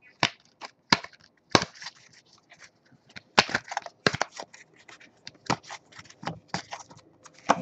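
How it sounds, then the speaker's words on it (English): A deck of tarot cards being shuffled by hand, heard as close, irregular bursts of sharp papery riffles and slaps with short quiet gaps between them, no talking. "As I shuffle the deck"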